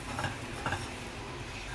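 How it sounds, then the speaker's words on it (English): Flour being whisked quickly into melted butter in a pan for a macaroni cheese roux, giving soft scraping stir strokes with a couple of brief louder swishes over a faint low hum. "The next step is you put the 2 tablespoons of flour and mix. Mix fast."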